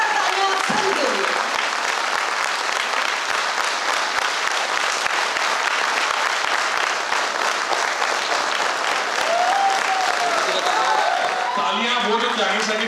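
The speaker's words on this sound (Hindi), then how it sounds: "जोरदार तालियां आप सभी के लिए" Sustained, loud audience applause at a KRS Multipro product launch event, dense clapping from a large crowd filling the whole stretch without pause.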